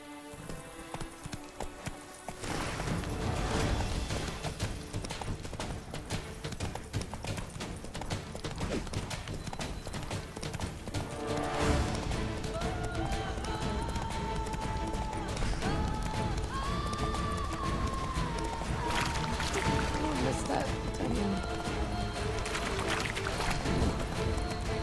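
Roach, Geralt's horse in The Witcher 3: Blood and Wine, gallops in a steady rapid clip-clop of hooves that runs for most of the stretch, close and continuous under game music and ambient sound.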